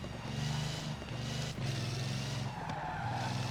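A loud, revving Napier Railton vintage race car engine in Forza Horizon 4 roars continuously, its pitch rising and dipping with brief gear-change breaks, close and steady throughout with no talking.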